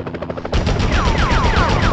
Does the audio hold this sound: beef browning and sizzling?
no